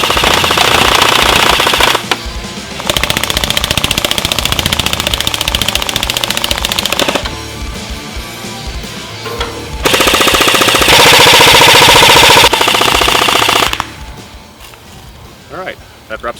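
An ECHO 1 Red Star LMG airsoft AEG fires from its drum magazine in long, loud full-auto bursts of rapid mechanical rattling, separated by short pauses.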